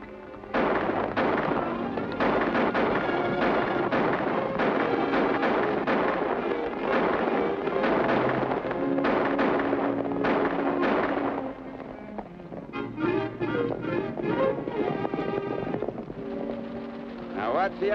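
Gunshots in a western TV show on a ranch: a rapid, loud volley of sharp cracks, one after another, that eases into scattered shots near the end.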